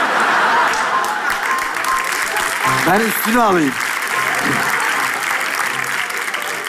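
Loud, sustained applause from a studio audience fills the whole clip while a host speaks over it.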